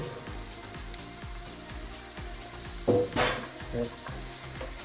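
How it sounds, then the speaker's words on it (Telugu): Marinated chicken sizzles in hot oil with ginger-garlic paste, a steady close frying hiss under rhythmic stirring scrapes, with a few louder clanks of a utensil against the pan. "మ్యాగ్నేట్ చేసిన చికెన్ వేసుకుందాం."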